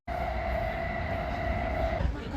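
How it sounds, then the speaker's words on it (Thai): A train running out from Shinjuku toward Kamakura gives a steady interior rumble with a sustained mid-pitched tone that drops away near the end, heard from inside the carriage. "คือแบบนั่งรถไฟจากชินจูกุออกไปอีกประมาณชั่วโมงหนึ่ง"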